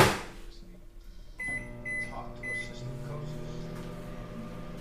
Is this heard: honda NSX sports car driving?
no